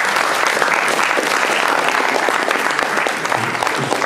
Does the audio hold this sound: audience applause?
yes